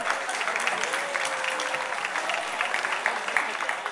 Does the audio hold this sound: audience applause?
yes